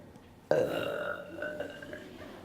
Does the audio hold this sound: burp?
yes